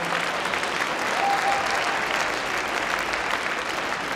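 A concert audience at a district school music festival gives a steady round of applause for the students' parents, a dense even patter of many hands clapping throughout with no pauses.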